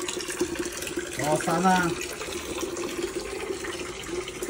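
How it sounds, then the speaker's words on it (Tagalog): Water poured into a container holding tilapia fingerlings, a steady splashing hiss that runs throughout under a brief spoken phrase. "nagdadagdag ako ng tubig para lumalim ng konti"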